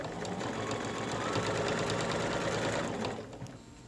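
Steady whirring of a sewing machine stitching a cotton mask, close and continuous for about three seconds before slowing and stopping.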